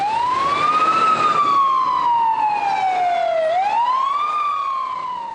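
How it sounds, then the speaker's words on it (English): A fire truck siren wails loud and close, sweeping slowly up and down in a continuous rising and falling tone with no voices over it. "When you're driving a fire truck with lights and sirens on"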